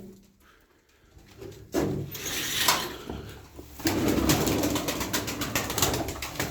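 Pigeons in a coop, including a young blue hen, with soft cooing and rustling from the birds, plus wooden knocks and brief bursts of wing or movement noise nearby.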